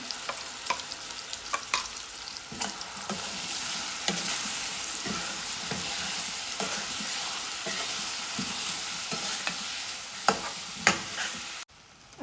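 Green masala paste (vatan) frying in a pan over a low flame for an Alibag white onion masala, with a steady close sizzle and repeated scraping stir strokes running throughout, no talking.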